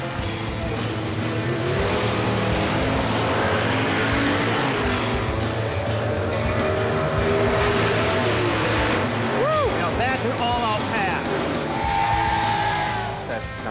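A drag racing car makes a pass at Bristol Dragway, a loud sustained engine roar with rising revs and pitch sweeps near the end, amid crowd noise at the track.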